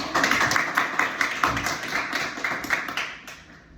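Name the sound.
audience clapping at a Bible study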